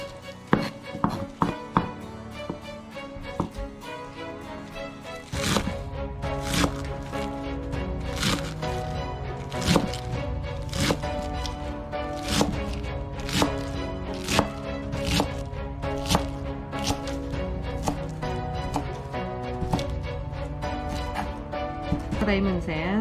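A knife chops chives on a cutting board for cucumber kimchi, giving a long run of sharp, evenly spaced taps that settles into a brisk steady rhythm, with a voice talking throughout.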